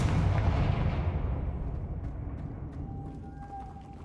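In the Hogwarts Legacy game, a Confringo spell lands in a loud, booming blast that fades slowly into a rumbling tail, with a thin ringing tone lingering at the end.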